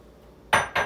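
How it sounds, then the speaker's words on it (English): A lid set onto a Cuchina microwave popcorn maker, two quick, sharp clacks close together near the end after a quiet start. "So I'm going to put the lid on."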